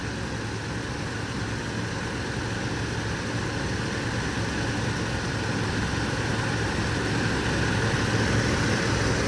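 A steady car engine drone runs throughout, a continuous low rumble with a constant broadband hiss on top, no voices; the engine still needs new motor mounts.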